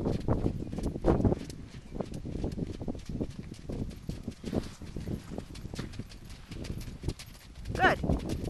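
A ridden horse's hooves beat at a canter in an arena, with rhythmic thudding footfalls close by while an instructor talks over them.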